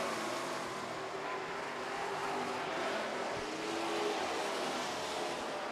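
Super stock race cars roaring around an oval track during a heat race, a dense continuous engine drone at a distance with no distinct passes standing out.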